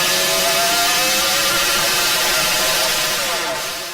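A massive 712-pound flywheel spins at about 2,000 RPM inside a fabrication hangar, giving off a steady, loud mechanical whir and buzzing drone with layered tones that holds constant, then fades slightly at the end.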